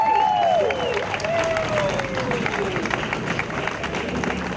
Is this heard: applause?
yes